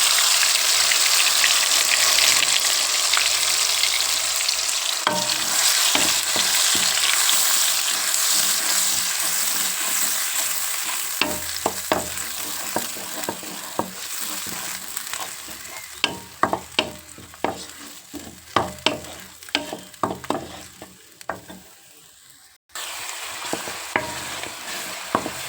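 A freshly ground paste sizzles and fries in hot oil in a pan, a steady loud crackle with repeated scraping strokes of a stirring spoon, briefly interrupted near the end, with no talking.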